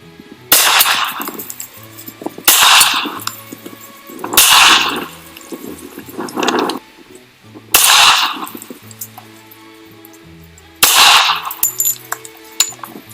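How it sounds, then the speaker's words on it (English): A 3D-printed metal 1911 pistol, all DMLS except the springs, firing .45 Winchester white box rounds outdoors: a series of loud, sharp bangs, each with a ringing, fading tail, spaced a couple of seconds apart. "So we're gonna try 3 rounds, 45 Winchester white box."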